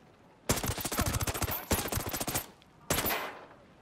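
Automatic gunfire in the video game Ghost Recon Breakpoint comes as three loud, rapid bursts of shots: two long strings back to back, a short pause, then a final burst that rings out briefly.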